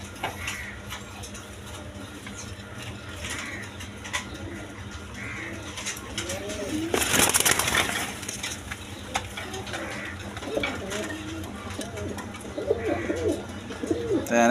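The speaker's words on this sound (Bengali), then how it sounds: "এখানে এক পেয়ার রাজগোল্লা কবুতর আছে" A pair of brown Rajgolla pigeons coo softly and repeatedly at close range, low rolling calls scattered through a steady background hum, with a brief loud rustle or flutter midway.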